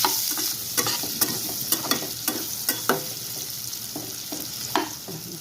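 Radish pieces frying in a pan for sambar, stirred with repeated sharp scrapes and clacks of a spoon over a steady low sizzle, close by.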